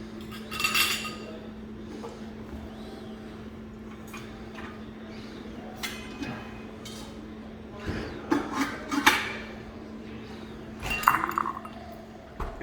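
Glassware and bar tools clink sporadically while bourbon cocktails are prepared: light, scattered taps and chimes over a steady background hum, with a cluster of clinks near the end.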